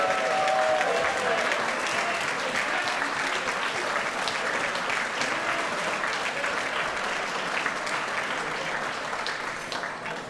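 At an awards dinner, an audience gives sustained, even applause to standing Eagle Scouts, a dense roomful of clapping that holds steady for about ten seconds, with a few voices beneath it.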